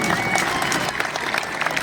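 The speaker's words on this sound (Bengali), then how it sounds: "আমরা সবাইকে বলবো একটা জোরে করতালি, সবাই মিলে জোরে করতালি" A crowd applauding at the opening ceremony of a West Tripura district athletics meet on a school ground, a dense, steady patter of many hands clapping at a moderate distance.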